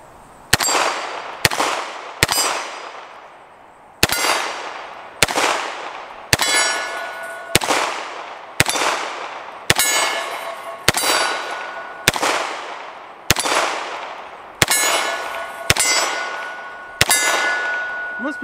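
Bullets from a CZ Scorpion 9mm strike steel targets at a plate rack, about fourteen distinct metallic clangs with ringing decay, spaced irregularly around a second apart, heard from a distance without talk.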